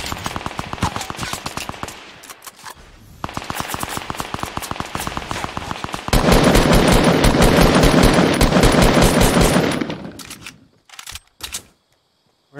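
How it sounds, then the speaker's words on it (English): Video game gunfire coming from behind, fast automatic bursts of rattling shots close and loud, with a long sustained volley near the end before it breaks into scattered single pops. "There's someone shooting us from behind."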